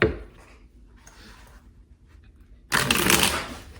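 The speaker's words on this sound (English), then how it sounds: "Oh, I never shuffle cards with him around." Tarot cards are shuffled in one quick, loud riffling burst near the end, after a stretch of quiet room tone.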